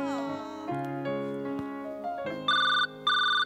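An incoming call's ringtone plays a melodic electronic tune on a mobile phone, loud and close, ending in two bursts of bright repeated beeps.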